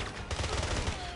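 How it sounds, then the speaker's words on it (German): Gunfire in the shooter game 007: Blood Stone: a quick burst of rapid, close, loud shots packed into about a second over game background noise. "Zwei Schüsse hier."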